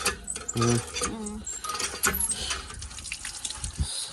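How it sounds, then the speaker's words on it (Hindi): Tap water runs into a sink during washing in a village home, a steady splashing stream that lasts throughout with brief clatters. "अच्छा मैं धो के आ रही हूँ, पानी भी गर्म होने"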